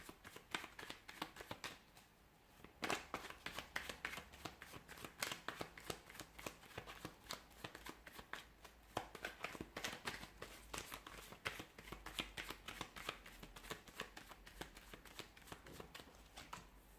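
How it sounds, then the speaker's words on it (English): Tarot cards are shuffled by hand in a continuous soft riffling and slapping that runs throughout, quiet and close, with no talking. "give the cards a shuffle"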